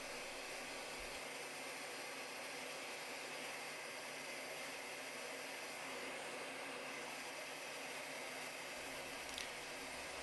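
Torch or heat gun running steadily while warming thread-locking compound on a bandsaw shaft to free an adjustment, a continuous airy roar close by with no talk.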